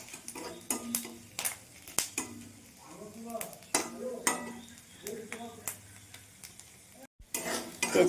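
Bay leaf and panch phoron sizzle in oil in a pan with prawns, under repeated scraping and knocking of a spatula against the metal as the mix is stirred, close and uneven, with a brief pause near the end.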